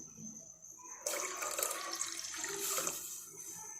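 Water poured into about a kilo of milk in a pan, a steady broadband splashing stream starting abruptly after a quiet second and running to the end, close and moderately loud with no talk.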